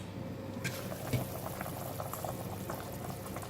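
Winter melon soup with pork ribs boiling in a pot, a low continuous bubbling and gurgling simmer, close and fairly quiet, with a faint knock partway through.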